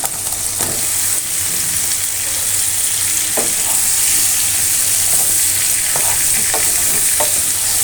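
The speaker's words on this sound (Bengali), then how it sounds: "কুমড়াগুলো ভালোভাবে কষাই নেব।" Pumpkin pieces frying and being stirred in a pan with tiger prawns, a continuous loud sizzle broken by occasional scraping clicks of the spoon.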